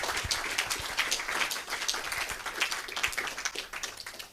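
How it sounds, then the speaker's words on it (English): An indoor audience at an astronomy talk evening applauds, a dense, steady clapping from many hands at moderate distance that continues evenly throughout. "So can we give Alessandro a big round of applause?"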